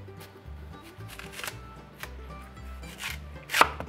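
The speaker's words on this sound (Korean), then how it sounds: "준비해놓은 거대한 무 슬라이스로 크게 썰어서" A knife slices through a large Korean radish, giving soft, repeated cutting and scraping strokes at close range that stay fairly quiet, with a sharper knock near the end.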